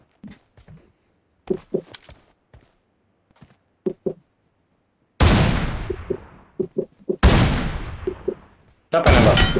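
Gunfire in the video game PUBG, several sharp reports with long decaying tails spaced a few seconds apart, mixed with short clicks and footstep-like taps, heard faintly beneath occasional talk.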